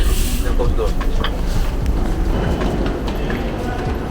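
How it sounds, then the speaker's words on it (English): Inside a commuter train bound for Manhattan, a constant loud rumble with rhythmic clacking of the wheels runs throughout, and a voice talks over it. "I'm on the train now, and it's about an hour to get to the city."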